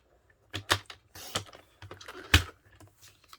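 Cardstock is trimmed for a card with a paper cutter, giving a handful of sharp, close clicks and short slicing scrapes separated by quiet pauses.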